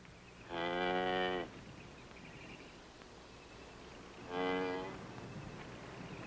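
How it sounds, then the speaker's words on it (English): A cow on a rural farm moos twice, each low, drawn-out call lasting about a second with a pause of several seconds between them, over a quiet outdoor background. "Is that your cow, Ben?"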